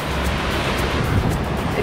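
A small ocean wave breaks in the surf, a steady broadband wash of water mixed with wind noise on the microphone, close and continuous without talking.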